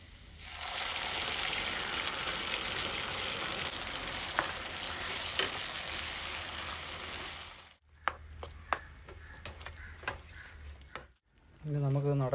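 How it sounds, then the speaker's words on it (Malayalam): White sauce poured over chicken in a hot pan sets off a dense, loud sizzle that fades, followed by a few sharp clinks of a spoon against the pan. "നമുക്ക് ആ വൈറ്റ് സോസ് അങ്ങോട്ട് ഒഴിച്ചു കൊടുക്കാം."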